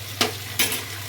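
Beaten eggs seasoned with pepper and salt stir-fried in a pan: a faint steady sizzle with two brief scraping stirs of a spatula, close.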